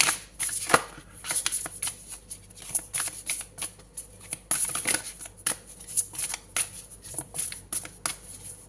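Oracle cards are shuffled near and fairly quiet, a continuous riffle of papery flicks and slaps in uneven bursts with no speech.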